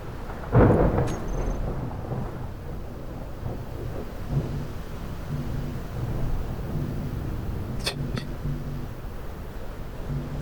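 Thunder from electric storms in a dark survival video game, one loud close crack early followed by a steady rumbling storm bed and another sharp strike later, with no talk.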